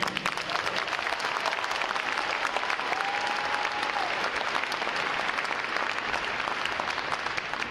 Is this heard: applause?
yes